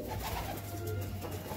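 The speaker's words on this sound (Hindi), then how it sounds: "ये देख सकते हैं माशाल्लाह बहुत ही प्यारे कबूतर हैं" Pet pigeons at a home breeding loft coo with a low, steady murmur that runs continuously and fairly close, with no talking over it.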